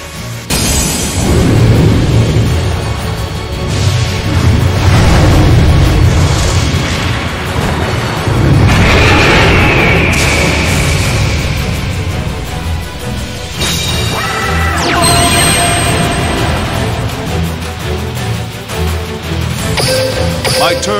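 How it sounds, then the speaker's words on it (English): In Yu-Gi-Oh Duel Links, summoning Slifer the Sky Dragon brings loud booming crashes and rumbling impacts, followed later by sharp swooshing, rising effects. "I summon an Egyptian god. I call forth Slifer,"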